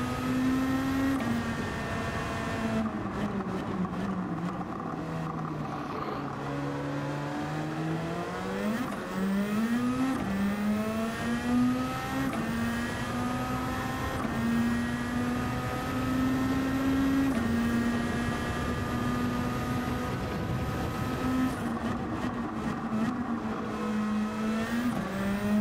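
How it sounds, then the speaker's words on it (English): Race car engine in Gran Turismo 7, with nitrous fitted, revving and shifting through gears again and again, a loud sustained whine that rises and falls without a break. "God, the noises this car's making is awesome."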